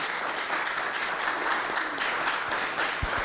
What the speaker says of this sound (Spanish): Los aplausos los voy a compartir con todos ustedes